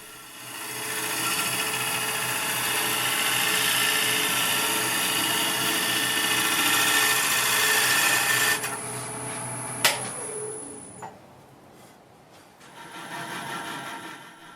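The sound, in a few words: wood lathe turning a green wood bowl blank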